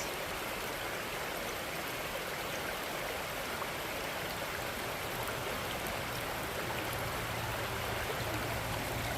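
A stream flows steadily beside a hiking trail, a constant broadband rush of water from a tributary below, fairly close and unbroken throughout.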